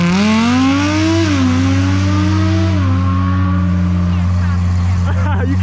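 An Audi R8 launches hard at a summer car cruise, its engine note climbing loudly through rising revs and gear shifts before fading away, with voices talking underneath.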